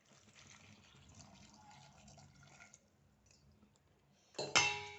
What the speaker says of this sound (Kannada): ಸ್ವಲ್ಪ ನೀರು ಸೇರಿಸ್ಕೊಳ್ಳೋಣ